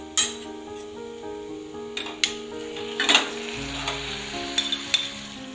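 Raw chicken going into a pan of frying onions sets off a steady sizzle, with a few sharp clinks of a spoon against the metal pan and a louder burst of frying near the middle.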